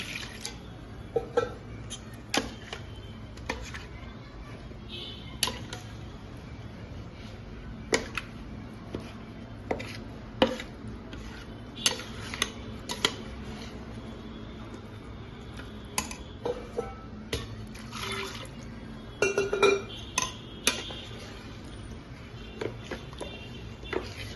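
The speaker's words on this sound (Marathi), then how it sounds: "आणि या झाऱ्याने ते हलवतो आहे म्हणजे कुठेही असं घट्ट गोठळी काही होणार नाही" Semolina kurdai batter stirred in a pot with a slotted ladle, giving repeated light metallic scrapes and taps at an uneven rhythm over a low steady hum, close by with no talking.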